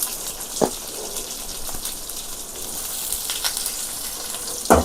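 A large onion fries in oil in a pan, a soft continuous sizzle with a couple of brief clanks from stirring.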